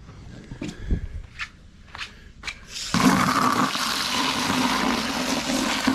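After a few light knocks and footsteps, water suddenly gushes into a bass boat's livewell, a loud, steady, broad rushing fill that continues to the end.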